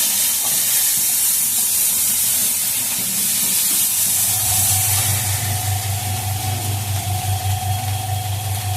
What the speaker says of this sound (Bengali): আমি মশলাটাকে একটু কষিয়ে নেব